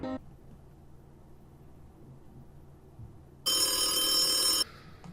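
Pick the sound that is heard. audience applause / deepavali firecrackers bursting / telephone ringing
telephone ringing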